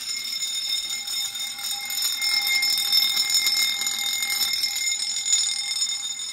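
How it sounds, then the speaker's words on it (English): A fire suppression system's general alarm: a steady, piercing electronic tone rings continuously and loudly, unbroken throughout, with faint background noise beneath, during a system test. "Now we are in the general alarm stage."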